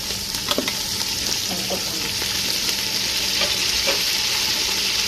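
Green chillies and crushed garlic frying in oil for jeera aloo, a loud continuous sizzle close up with occasional stirring clatter and no talking.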